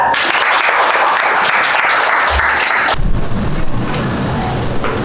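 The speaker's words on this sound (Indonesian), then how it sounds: "kita beri aplaus untuk kelompok 2." Sustained applause from a classroom audience after a student group's presentation during a teaching practice session, loud and steady for about three seconds before fading into a rumbling room murmur.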